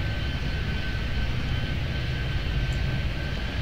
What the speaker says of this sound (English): You can keep your jet engine sound down a little bit.